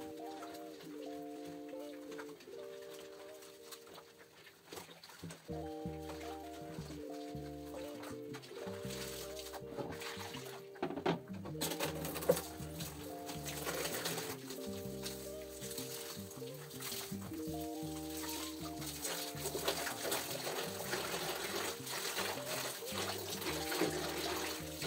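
Running water in a bathroom as a scrubbing mitt is washed and rinsed: a steady splashing flow that grows louder and fuller halfway through, with tonal music playing in the background.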